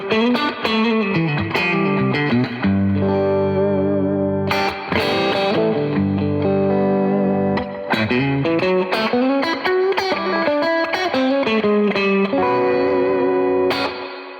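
Electric guitar run through delay and reverb pedals, playing sustained chords and notes that ring out with washy echoes and long reverb tails, loud and alone without any talking.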